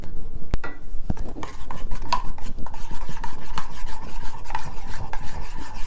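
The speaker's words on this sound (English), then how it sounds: "I'm going to get that 1 teaspoon of baking soda, and I'm just going to stir it up." A spoon stirs a teaspoon of baking soda in a bowl while making persimmon bread batter, producing loud, close, continuous scraping and clinking against the bowl.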